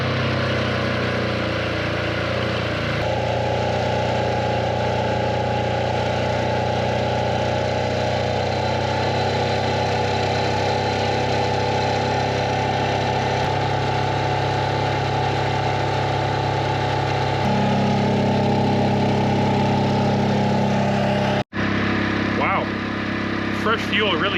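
An off-grid diesel generator idles close by, running a steady, even mid-pitched drone with a faint underlying vibration and a slight shift in tone partway through.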